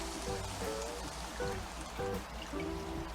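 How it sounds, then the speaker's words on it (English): Beef broth poured into a hot pan makes a close, continuous trickling and pouring stream with soft gurgles over a low kitchen background. "we want to add our beef broth"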